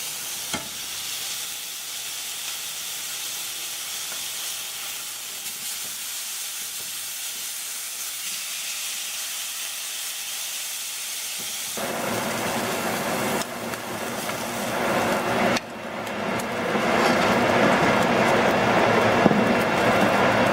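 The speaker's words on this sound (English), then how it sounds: "time to flip the steaks" Seared steaks sizzling loudly in a hot pan, a steady hiss that jumps louder as they are flipped partway through, then a fiercer frying roar, close up with no talking.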